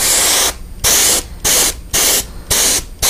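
An airbrush sprays paint onto a fishing lure painted as a yellow perch, a close, loud hiss in five or six short bursts of about half a second, separated by brief pauses, with no talking.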